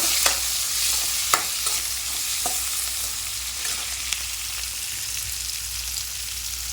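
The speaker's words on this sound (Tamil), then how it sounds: "இப்போ தக்காளி கொட்டிக்கலாம்" Chopped tomato and onions sizzling in hot oil in a pan, a loud continuous close-up frying hiss with a few sharp spatula clicks early on.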